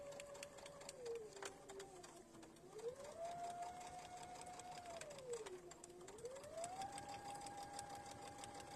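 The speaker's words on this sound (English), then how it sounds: "Now I am just sewing right on down." A sewing machine stitches a quilt block seam in a steady, continuous whir, its motor pitch rising and falling as the speed changes, with faint background noise throughout.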